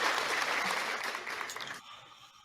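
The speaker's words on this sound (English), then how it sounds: "So let's get a round of applause for that, shall we?" A short round of applause from an audience rises at once, holds as dense clapping for about two seconds, then cuts off abruptly.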